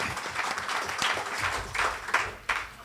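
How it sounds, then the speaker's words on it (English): A crowd applauds steadily for a few seconds at a water supply project event, dense clapping rising and falling without any voices. "let's say another round of applause for Honourable Reginald Austrie."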